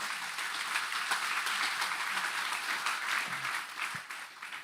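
A church congregation claps together in steady, dense applause, loud and close, holding evenly throughout the short stretch.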